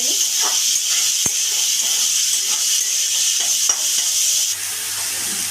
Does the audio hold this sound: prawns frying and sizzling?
yes